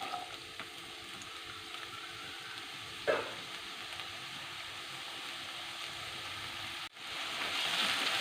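Chopped onion sizzles steadily in a hot pan for an egg masala kozhukatta, a continuous close frying hiss with a brief stir clatter partway through and no voices.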